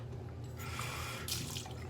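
Hot water streams steadily from a faucet into a sink, a continuous close splashing wash that holds at an even level for the short stretch.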